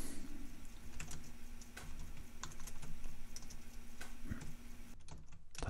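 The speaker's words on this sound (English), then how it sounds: "Typing is difficult." Rapid, uneven key clicks from a computer keyboard being typed on at close range, a steady run of sharp taps over a low electrical hum that cuts off near the end.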